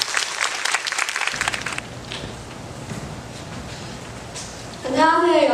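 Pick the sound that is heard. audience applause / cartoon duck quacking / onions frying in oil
audience applause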